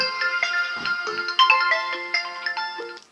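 A mobile phone ringtone plays a bright electronic melody of quick repeated notes, loud and close, running for several seconds without talk over it.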